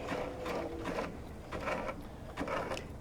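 A sewing machine runs steadily as it stitches fabric for a penguin play mat, with a continuous whirring hum and rhythmic mechanical clicks, close by and with no voices.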